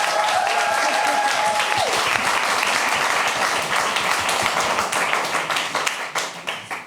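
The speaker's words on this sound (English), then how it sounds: "One more warm applause for Christian," A theatre audience breaks into sustained, full applause after a dance performance, dense and loud, thinning into scattered claps toward the end as a lingering tone fades at the start.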